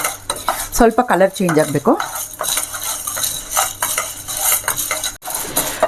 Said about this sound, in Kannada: ಎಣ್ಣೆ ಹಾಕ್ಕೊಳ್ಳಾರ್ದೆ ಎಲ್ಲ ಡ್ರೈ ರೋಸ್ಟ್ ಮಾಡ್ಕೋಬೇಕು